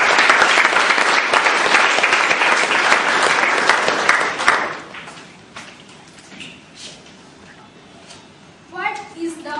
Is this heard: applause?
yes